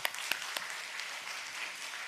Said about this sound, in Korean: 박수 한번 쳐주십시다.